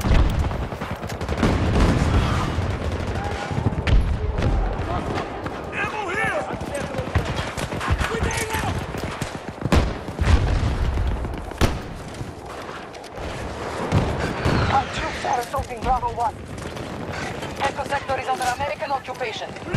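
Gunfire in a shooter video game: repeated bursts of automatic fire and single heavy shots with occasional booms, loud and fairly close, running across the whole stretch while voices talk over the action.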